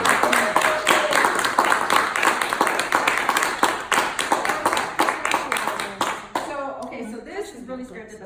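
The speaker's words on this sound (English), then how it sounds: "let's give them all a round of applause" Audience clapping at a scholarship reception, dense and steady for about six seconds before thinning into scattered claps as a voice begins talking over the end.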